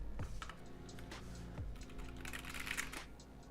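Keys on an Altair split ergonomic keyboard being typed on in a quick, steady run of close clicks and clacks, with no talking.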